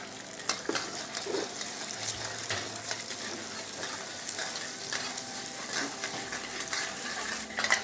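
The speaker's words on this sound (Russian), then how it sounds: "Crack the egg in and then keep stir." Egg sizzling in hot oil in a wok, crackling and spitting steadily while a utensil scrapes and stirs it in repeated quick strokes, close and fairly quiet.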